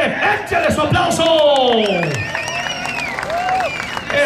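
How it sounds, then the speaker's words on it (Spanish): A crowd cheers and whoops at a live show at Plaza Garibaldi in Chicago, with loud shouts and whistles over a strong band of voices and a voice calling out over the noise. "¡Échenle su aplauso!"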